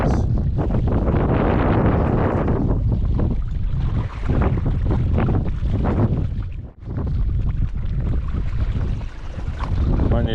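Strong wind blows over a lagoon during inshore fishing, roaring and buffeting the microphone loudly and almost continuously for the whole stretch, with only a brief lull, and no clear talk.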